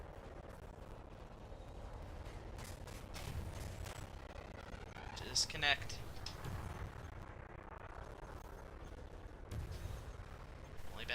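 Spaceship cannons firing in the space combat game Elite Dangerous, a handful of sharp booming shots over a steady engine drone, with a brief spoken word in the mix.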